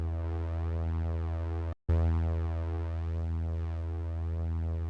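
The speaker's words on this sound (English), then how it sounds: "We could try a little clipping distortion, see if that does any favors to us." Sustained harmonic synth tone processed with clipping distortion in a music production session, a steady buzzy drone that cuts out briefly and then resumes loud, with no voice.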